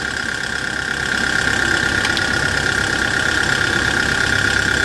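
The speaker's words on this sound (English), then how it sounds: "from the sound of the engine you can know it's in a very good condition" A Kia Bongo 3 food truck diesel engine idles with a constant low rumble and a faint high whine, smooth and unbroken for the whole stretch, no voices.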